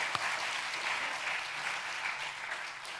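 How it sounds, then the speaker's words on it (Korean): A church congregation claps continuously, a dense, even applause that holds steady from start to finish. "모두를 위해서 박수 한번 부탁할까요?"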